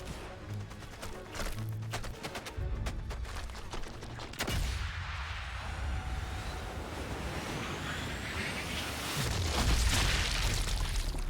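Gunfire and booming blasts in the video game Sniper Elite, with enemies shooting at the player at a coastal defence position; scattered shots and explosions over a constant roaring wash like surf, moderately loud throughout.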